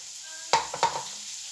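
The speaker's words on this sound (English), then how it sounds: "We'll start off in a pan, nice and warm, just a drop of sesame oil in there. Then your shallots" Shallots go into a warm pan with a drop of sesame oil, a short clatter and stir followed by a couple of sharp sizzling bursts that settle into a quieter fry.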